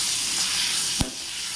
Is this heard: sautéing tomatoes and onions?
yes